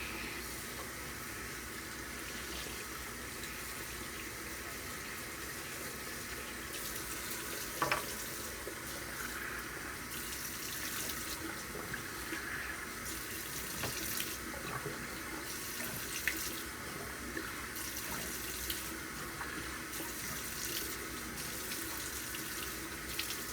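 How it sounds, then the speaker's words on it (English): Tap water runs steadily into a bathroom sink while a face is rinsed off, a continuous soft hiss and splash with small shifts in flow and no talking. "Now I'm just going to rinse it off."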